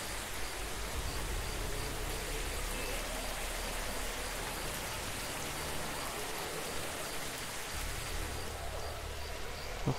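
Steady rain falls continuously in the game March of the Living, a dense, even hiss of drops at moderate level with no gaps.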